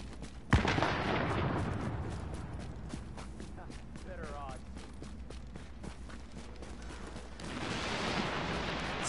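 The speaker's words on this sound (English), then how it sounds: "I'm hearing gunshots." Gunshots in the video game The Division, a sharp loud shot at the start followed by scattered distant bursts of gunfire and rapid popping over a steady background, with a voice talking over parts of it.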